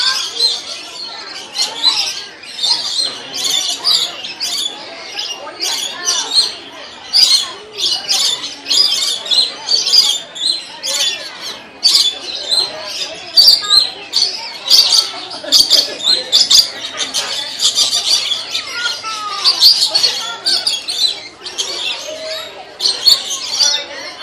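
A flock of lorikeets at the zoo squawks and chirps continuously, shrill overlapping calls close by in rapid bursts, with people talking now and then underneath.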